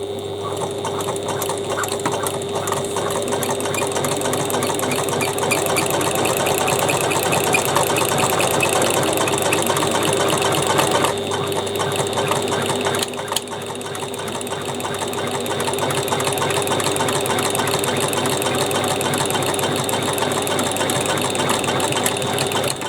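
A sewing machine stitches across the top of a Paloma-style fabric bag in one long, steady, close mechanical whir that runs almost unbroken, with a slight dip in pace partway through.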